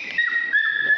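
A dog whimpers in a thin, high, sustained whine, close and fairly loud, rising and dipping in pitch over a second outdoors in cold Icelandic weather.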